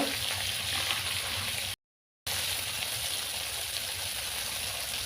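Prawns frying lightly in hot oil for a prawn malai curry make a continuous bubbling hiss, broken by a short silent gap partway through before the sizzle resumes at the same level.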